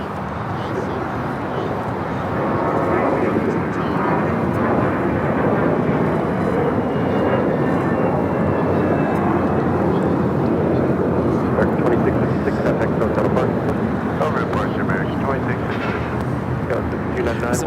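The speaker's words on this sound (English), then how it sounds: "2656 taking off to Los Cabos on the A321" An American Airlines Airbus A321 takes off at Los Angeles International Airport for Los Cabos, a loud, sustained jet roar that swells and holds steady over many seconds, with no speech.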